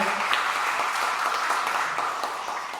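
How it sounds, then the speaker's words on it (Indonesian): Audience applause fills a hall at a regional arts council event in Berau Regency, a dense, steady wash of many hands clapping that carries on throughout and fades slightly toward the end. "Kita berikan tepuk tangan dulu untuk Dewan Kesenian Daerah Kabupaten Berau."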